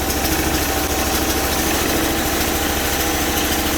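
Bolens 1600H Hydro garden tractor with a 20 HP engine idling with the choke on, a steady, loud, close mechanical drone with an even low throb and no breaks.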